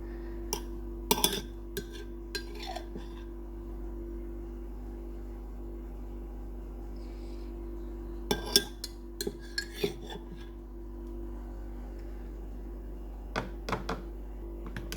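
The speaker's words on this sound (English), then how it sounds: "Give it a good stir." A utensil stirring mug pizza batter in a mug, giving scattered bursts of sharp clinks and scrapes against the mug, clustered in a few short runs with quiet gaps between them over a low steady hum, no talk.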